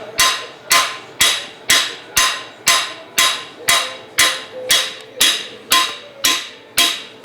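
A hammer strikes again and again in a garage during an engine teardown and rebuild, about fifteen loud, evenly spaced blows, each ringing briefly before the next, with no talk over them.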